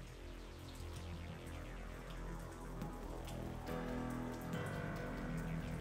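Rain falling in the Naruto Shippuden: Ultimate Ninja Storm 2 video game, a steady patter of drops on surfaces under a low hum, growing slightly fuller toward the end.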